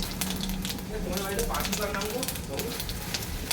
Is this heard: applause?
no